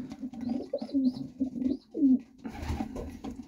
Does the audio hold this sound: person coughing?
no